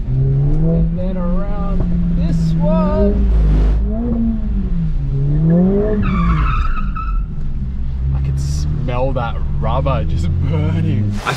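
A 2021 Mercedes-AMG GT R Pro on a race track, its tires squealing and skidding with wavering high-pitched howls over the engine's revving, while a person talks loudly throughout.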